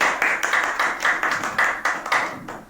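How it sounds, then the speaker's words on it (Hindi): Clapping from a crowd at a garlanding ceremony during a political gathering: a steady run of distinct, rhythmic hand claps, moderately loud and close, with no speech over them. "माल्यार्पण करेंगे वो जोरदार तालियों के साथ"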